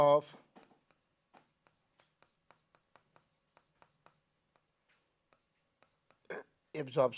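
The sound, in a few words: writing on a board while drawing a diagram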